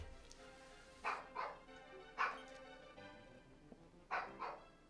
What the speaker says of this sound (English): You gotta excuse the dog.